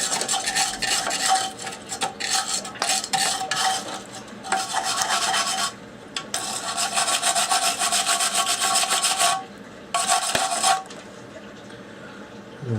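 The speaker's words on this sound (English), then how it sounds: "Right, wire brush. Let's clean out the bolt heads." Wire brush scrubbing corroded bolt heads on an Audi 80 during a V8 conversion: loud, rapid raspy strokes in long continuous bursts, broken by two brief pauses.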